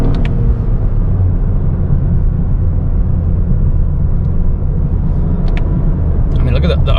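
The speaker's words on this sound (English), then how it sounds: "So I don't know if you can hear that turbo, but it sounds nice." The turbocharged engine of a 2025 Toyota GR Corolla automatic rumbles steadily from inside the cabin during a drive, loud and continuous, with a voice talking over it.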